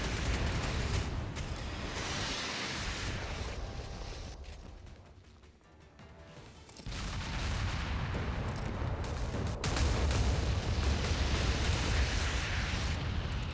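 Naval guns fire in the Modern Warships game, with shells exploding on a target: a dense, loud, continuous roar of cannon blasts and detonations that briefly dips before surging back.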